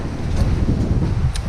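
Steady gusting wind on a cold, snowy day at a house building site buffets the microphone with a constant low roar, broken only by a couple of faint higher whooshes.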